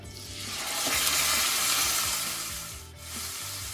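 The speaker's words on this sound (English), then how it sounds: "you want to hear that sizzle" A loud, steady sizzle of steak searing in a hot cast iron skillet, crackling continuously at close range with faint scraping underneath.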